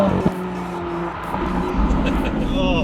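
A Ferrari 458 Italia engine sounds while the car is driven, a steady loud mechanical roar with rising tones toward the end and some talking over it.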